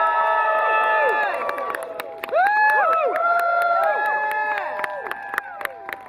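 A lively audience at a Scott Pilgrim Takes Off Q&A cheers and shouts, many voices whooping over one another in a loud, sustained roar that slowly thins toward the end, with scattered claps.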